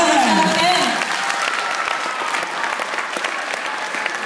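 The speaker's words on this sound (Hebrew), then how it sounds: "מחיאות כפיים לכל המורים שעומדים כאן עכשיו" An audience applauds loudly for dance teachers at the final show of a dance studio, a dense, sustained clatter of hand claps, with a brief announcer's voice fading at the start.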